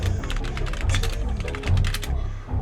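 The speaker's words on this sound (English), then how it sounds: "type that in exactly." Rapid clatter of typing on a computer keyboard, with dense bursts of keystrokes running almost continuously and a brief pause near the end, set against a low background hum.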